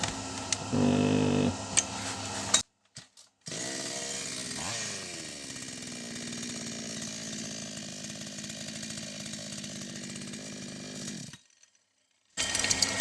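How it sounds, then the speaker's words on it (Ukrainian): Repaired chainsaw, a Chinese-made saw or Stihl MS180, running on the bench without its bar and chain, a steady close buzzing engine drone with a short cutoff partway and brief silences, no talk. "Техніка працює, мастило йде"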